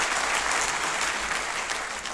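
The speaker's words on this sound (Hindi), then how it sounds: "जरा तालियां बजाकर उनका भी स्वागत करें।" A large audience bursts into dense, sustained applause to welcome someone at a public event with a cabinet minister and the mayor, the clapping loud, even and unbroken throughout.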